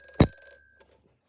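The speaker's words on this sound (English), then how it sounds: "this is a Sharp alarm clock" A black Sharp alarm clock gives a single short, bright electronic ring burst, followed by a faint brief echo tick, close and otherwise quiet.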